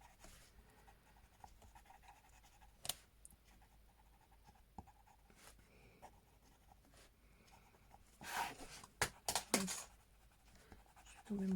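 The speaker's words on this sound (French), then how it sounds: "on va passer du crayon blanc" A white coloured pencil shades on paper in soft, close, scratchy strokes that stay faint for most of the clip, then turn into a few louder bursts near the end.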